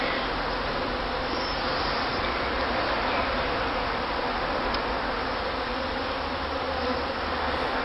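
Scout bees buzz steadily around a possible swarm site, a thick, even hum that continues without pause throughout, close and fairly loud, with no talking.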